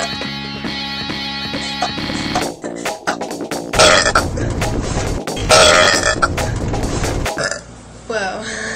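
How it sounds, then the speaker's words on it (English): Someone lets out a long, deep, gurgling belch, close and loud, over background music. "If I burp around you, that means I'm really comfortable with you."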